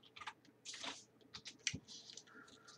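Typing a command on a computer keyboard at a Windows disk-partition prompt: a quick, faint run of soft key clicks in small bursts, close up, with no talking.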